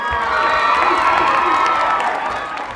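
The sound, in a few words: schoolchildren cheering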